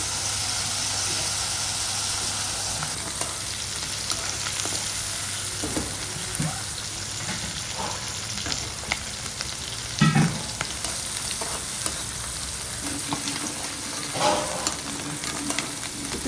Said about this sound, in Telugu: ఇది కొంచెం ఎర్రగా వేయించుకోవాలి